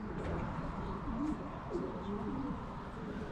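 Young homing pigeons coo softly in a loft during a training flight, a few low, rolling calls over a busy background of shuffling and faint chirps.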